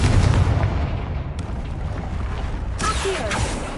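A Confringo fire spell explodes in the video game Hogwarts Legacy, a glacier setting: a loud initial boom decaying into crackling rumble, with a second sharp burst and rattling debris near the end.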